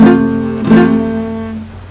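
A beginner's guitar chord rings out with a sustained stack of string tones, struck twice in quick succession, with strings buzzing where fretting fingers touch neighbouring strings as the chord fades; loud and close, no voices.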